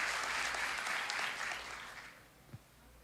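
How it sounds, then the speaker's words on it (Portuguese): A church congregation applauds during a sermon, a fairly faint, distant wash of clapping that fades out after about two seconds, followed by a single soft thump. "você pode aplaudir o nome do Senhor"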